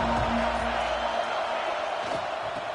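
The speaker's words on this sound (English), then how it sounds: "This crowd ready to make its presence known." A football stadium crowd at a Arkansas Razorbacks game roars in a broad, sustained wash of cheering and noise, loud and continuous, fading slightly toward the end.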